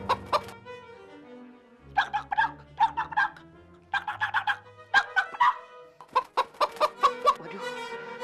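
Chickens cluck in clear, repeated bursts of short calls separated by brief pauses, close and fairly loud, with low tonal sounds underneath.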